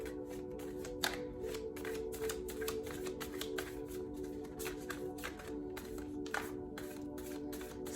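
Tarot cards handled at a table during a reading, with repeated soft riffling, flicking and tapping as the deck is shuffled and a card drawn, close and quiet, no voice.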